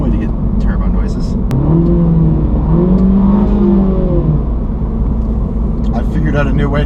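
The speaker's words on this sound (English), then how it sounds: "I figured out a new way to get turbo noises" A car engine with the clutch held in revs in short bursts, giving whooshing, turbo-like whistles over a steady road rumble inside the moving car, with voices talking through it.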